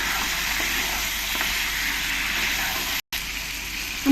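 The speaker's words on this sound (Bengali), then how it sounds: "এবার এই যে বড়িগুলো আমি ভেজে নিয়েছি বড়িগুলো দিয়ে দেবো দিয়ে ভালো করে আমি মিশিয়ে নেব" Fried bori lentil dumplings with capsicum in a pan give a steady, even sizzle and hiss throughout, broken by a brief cut near the end, with no talking.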